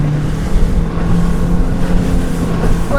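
A Highfield 380 Sport motorboat engine drones steadily at cruising speed on open water, loud and continuous with wind buffeting the microphone.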